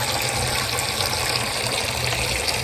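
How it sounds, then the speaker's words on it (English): Water runs steadily into a bowl from a tap, a constant splashing rush with no talking. "So I'm going to fill a bowl with water."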